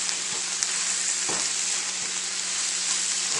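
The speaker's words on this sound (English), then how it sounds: "So I want to flip them as much as I can in my skillet." Onions caramelizing in a hot skillet give a steady, loud broadband sizzle with a few soft scrapes and knocks as they are flipped, close up and continuous with no talking.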